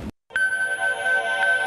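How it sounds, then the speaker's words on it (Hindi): A phone's electronic ringtone starts abruptly after a short pause and holds a steady, bright, sustained melody, clearly audible and alone, in an indoor scene from a Pakistani TV drama. "ये देखें, नवाब साहब का फोन भी आ गया"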